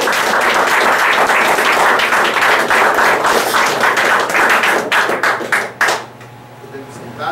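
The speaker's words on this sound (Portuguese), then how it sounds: "Vamos aplaudir essa palavra." A Catholic congregation in church claps loudly and steadily, many hands together and close, before the applause breaks up into a few last scattered claps and falls away to quiet room tone.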